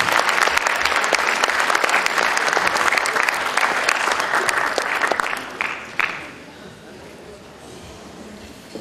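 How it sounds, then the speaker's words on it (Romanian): An audience at an awards gala in Bacău applauds in a sustained, dense burst of clapping that thins out and dies away toward the end, with a voice heard faintly. "vreau să vă rog să vă mai aplaudați încă o dată pe dumneavoastră și pe organizatori"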